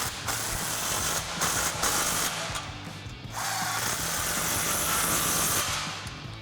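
A hand ratchet with a 15mm socket clicks in steady repeated bursts while snugging up exhaust clamps on a Toyota Tundra, close and clear with brief pauses between strokes.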